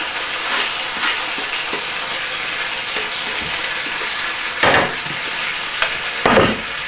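Tomatoes simmering in olive oil in a pan, a steady bubbling sizzle throughout with occasional louder spoon-and-pan clatters near the end, close and fairly loud, no talking.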